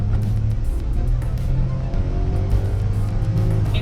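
A 2021 Ford Figo automatic drives on the road, its engine a steady droning hum with smooth, seamless downshifting and no distinct shift jolt, heard loud and continuous from inside the car.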